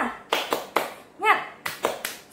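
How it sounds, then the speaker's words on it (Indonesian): Fifth-grade primary schoolchildren in a classroom perform the 'tepuk semangat' clapping pattern, a crisp sequence of about six sharp claps in a patterned rhythm, with a short chanted voice in the middle. "Nah, tepuk semangat."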